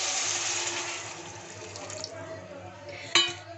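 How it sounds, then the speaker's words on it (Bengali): Water poured into sautéed cluster beans cooking in a pan, a strong rushing splash and hiss that fades to a softer bubbling simmer, ending with a sharp clink. "এখন আমি দিয়ে দিচ্ছি জল।"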